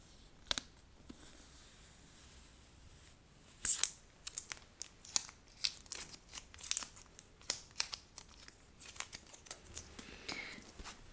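Sticker being slowly peeled off a book, quiet at first, then a series of close, crisp tearing and crinkling bursts in an intimate, hushed setting.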